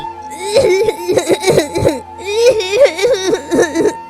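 An animated Bengali cartoon mother sick with illness coughs in two bursts of several harsh, rhythmic hacks each, close and loud, voiced by an actor imitating the coughing.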